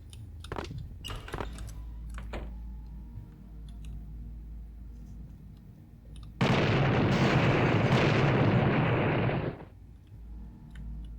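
An explosion goes off in Vampire: The Masquerade – Bloodlines, a sudden loud roaring blast that holds for about three seconds before cutting off, preceded by scattered faint clicks and pops.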